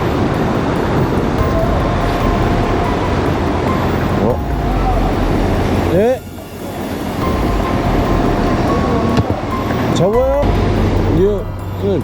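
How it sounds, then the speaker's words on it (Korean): Heavy sea swells surge and crash against coastal rocks at a rock-fishing spot, a loud continuous roaring wash with stronger surges swelling and receding, close to the microphone. "너울이 좀 심하게 쳐가지고"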